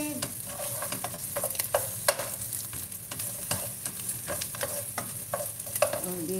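Chicken wings for adobo sauté in a pan with a constant close sizzle, broken by frequent sharp scrapes and clacks of a utensil stirring in an uneven rhythm, and no talking.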